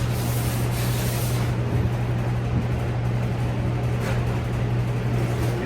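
Steady, continuous sanding on a fiberglass 1932 coupe body and dash, a dense broadband rubbing hiss with a constant low hum beneath, close and loud throughout with no pauses.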